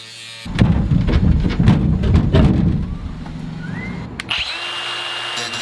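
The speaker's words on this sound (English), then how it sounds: "The cutoff wheel. I'm thinking this is the next tool to use to cut off that little piece." A cutoff wheel grinds through metal on a portable cooler build, a loud, dense buzzing cut running for about three seconds before it winds down, leaving a fading whine and some light clatter.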